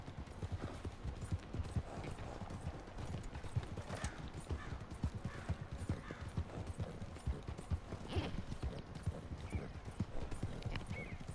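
Horse hooves clip-clop at a steady, brisk rhythm in Red Dead Redemption 2, close and fairly loud throughout, with a brief whinny mixed in.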